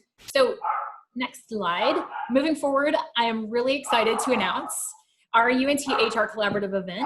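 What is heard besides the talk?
dog barking in the background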